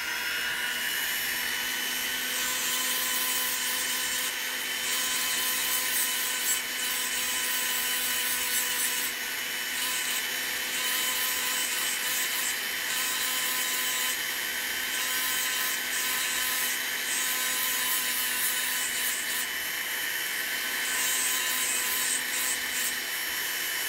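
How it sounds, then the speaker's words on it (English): A sanding disc grinds down a ring being made with a Potter USA ring-making kit, giving a steady, continuous whirring and rasping that holds for the whole stretch with no talking. "See how this sanding disc just takes it down really quick?"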